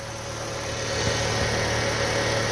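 A Fiat Palio engine idles smoothly after a fault causing engine noise was repaired, giving a steady, close mechanical hum with no talking.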